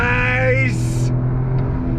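A 2023 Toyota GR Corolla engine droning close up through downshifts, with a brief rising rev blip and a whooshing rush partway through over a constant low rumble.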